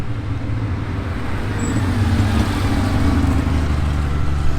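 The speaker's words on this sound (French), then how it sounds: "Carrera RS, magnifique." A Porsche Carrera RS racing car at the Tour Auto classic rally drives past with a steady engine roar that swells gradually, loud and sustained, with no talking.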